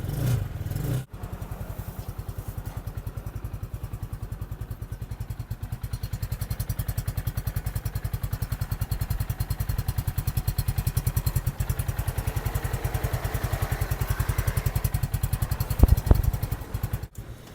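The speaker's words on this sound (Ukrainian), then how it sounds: "Звучить прикольно, як базовий двохклапаний 250-кубовий двигун" A 250cc two-valve motorcycle engine idles with a rapid, steady putter, fairly close, after a brief louder start; a couple of metallic knocks near the end.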